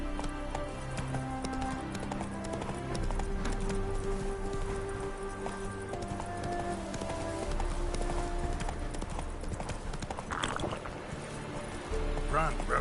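Roach the horse galloping in The Witcher 3, hooves drumming in a rapid steady clip-clop over game music, with someone talking at times above the hoofbeats.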